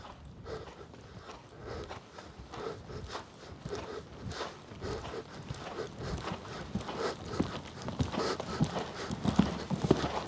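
Horse hooves clip-clopping in a steady rhythmic gait around a riding arena, moderately close with soft thuds on the footing and faint background rustle.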